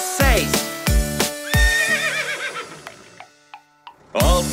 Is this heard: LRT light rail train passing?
no